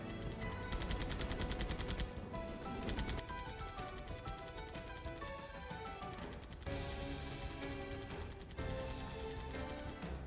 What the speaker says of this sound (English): Next here we have the turret, the detachable turret.